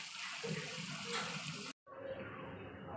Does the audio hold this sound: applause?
no